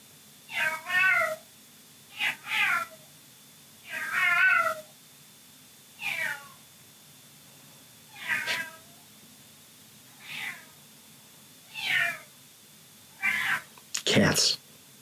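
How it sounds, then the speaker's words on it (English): A cat meows repeatedly, about nine separate plaintive calls spaced roughly every second or two over a faint steady hum, the last one sharper and more strained, close and clear with no talking. "Cats."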